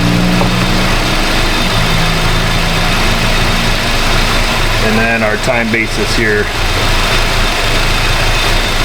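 A Honda Civic engine with a missing cam signal idles loud and close in a steady, even drone, while someone talks over it for a brief stretch in the middle.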